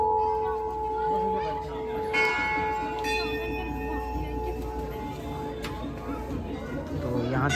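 Temple bells at a temple in Almora, Uttarakhand, struck several times with bright metallic clangs and long ringing tones, over a murmur of people chatting nearby.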